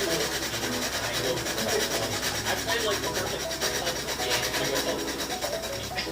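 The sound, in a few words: sanding aluminium diff case with 180 grit sandpaper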